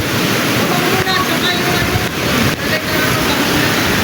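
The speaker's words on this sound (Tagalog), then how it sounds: "medyo malakas ang ulan at hangin" Loud, continuous roar of wind and heavy rain buffeting the microphone at a waterfall in Agusan del Norte, Philippines, with a broad rushing hiss throughout.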